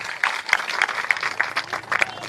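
A crowd claps steadily at a farmers' protest rally outside a crop insurance company office, a dense sustained patter of applause heard from within the gathering, fairly loud throughout.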